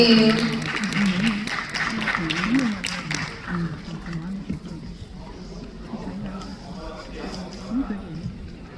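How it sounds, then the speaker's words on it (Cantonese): Applause from an audience at a school dance competition award ceremony, a steady dense patter of clapping running throughout, with a host's voice talking over it. "可唔可以再次俾熱烈嘅掌聲，恭喜晒我哋天主教聖安德肋小學嘅代表"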